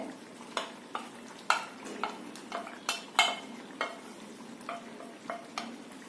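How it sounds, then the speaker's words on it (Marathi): Sautéed spinach stirred into a simmering gravy in a pan, with a steady sizzling bed and a dozen or so distinct spoon scrapes at a loose, uneven rhythm, close and moderately loud. "मस्त अशी उकळी आली गॅस मध्यम करायचा आणि त्यामध्ये आपण हे परतून घेतलेलं पालक घालायचं"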